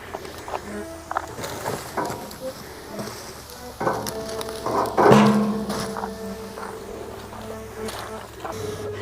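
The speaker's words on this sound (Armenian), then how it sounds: "Մի երկու րոպե էլ այսպես եմ թողնում, այսպես եմ խառնում անընդհատ ու մեր խավիծը պատրաստ է" Khavits, a thick flour porridge, is stirred in a pan, giving irregular scraping and clinking strokes, quiet at first and then louder and busier toward the end.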